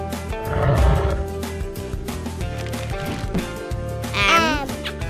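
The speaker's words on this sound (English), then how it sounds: "Lion." A lion's deep roar rumbles loudly up close, layered with other animal calls and background music, peaking early then swelling again near the end.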